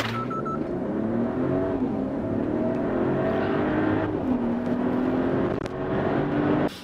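A Mercedes-Benz GLE 450 4Matic accelerates hard toward 100 km/h, its engine rising through a gear change in a smooth, muted cabin roar that carries on steadily to the end.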